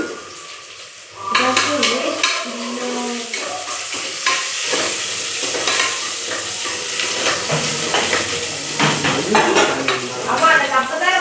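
Ground tomato paste goes into a hot pan for South Indian tomato rice, then is stirred in. A sudden loud hiss bursts in after a quiet start, followed by continuous sizzling with repeated scraping and metal-utensil clatter.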